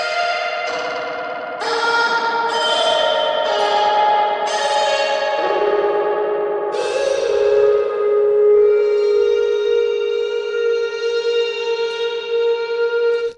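Plucked or synth tones soaked in delay and reverb, each note repeating and trailing off in echoing tails that pile up into a wide, washy sustained tone, loud and steady throughout with no voice.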